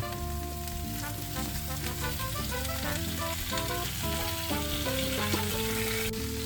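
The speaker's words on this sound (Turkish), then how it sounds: "Ve sıra geldi ıspanağa. Ispanağı da ekliyorum." Spinach added to a hot pan with onions and garlic gives a steady, even frying sizzle that runs underneath prominent background music.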